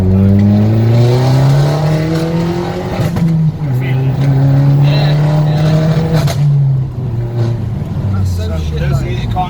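A turbocharged car engine stumbles and misfires under high boost pressure, its loud, close rumble wavering in pitch with sudden drops and a few sharp pops as the power cuts out and surges back.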